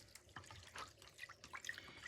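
Rainwater from a garden water butt is poured to rinse soil off, giving faint splashes and drips in quick irregular bursts.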